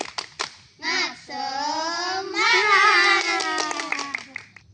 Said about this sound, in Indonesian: Tepuk semangat. Semangat.